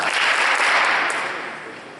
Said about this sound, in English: Everybody give Ben Weir 3 claps.